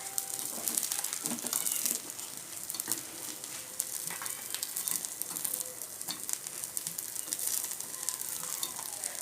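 Potato stuffed kuli paniyaram sizzling steadily in oil in a paniyaram pan as they are flipped, a continuous hiss with scraping clicks from turning, up close and with no talk.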